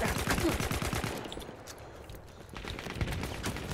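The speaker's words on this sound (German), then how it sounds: "Kommt wieder einer von den Kanonen!" Cannon fire in the Battlefield 1 video game: rapid booming shots pound in a dense burst, ease off in the middle, then resume in a loud barrage under the game's battle noise.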